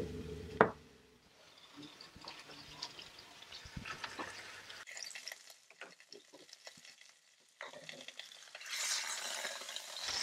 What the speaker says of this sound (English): I'm going to add some oil and then we'll start searing the tri-tip.